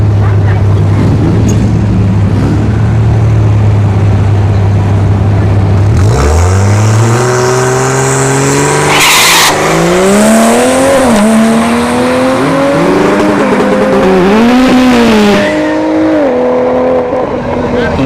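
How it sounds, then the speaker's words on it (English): At a drag strip, a Tesla Model S Plaid and a Toyota A90 Supra launch from the line. A steady idle hum gives way to loud rising engine and motor whine with shifting tones, while an announcer talks over the noise. "You got Andrew with the Tesla Plaid channel on the left hand side, or left lane, and Timmy Tornado here in the right lane in the A90 Supra."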